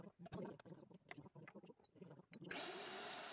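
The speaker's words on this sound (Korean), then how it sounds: "제가 이제 얘를 처음 사용하면서 한번 북어포를 갈아 보도록 하겠습니다" An electric stainless-steel grinder grinds dried pollack. A few seconds of close clattering and handling come first, then the motor kicks in with a loud, steady, high whirring roar that runs to the end.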